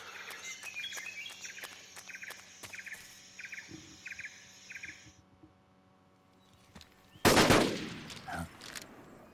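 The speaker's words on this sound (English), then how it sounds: "Someone shooting gun?" Bursts of gunfire in Metal Gear Solid 3: Snake Eater, with rapid repeated shots in the first half, then a short loud burst near the end, set against a jungle ambience of birds and insects.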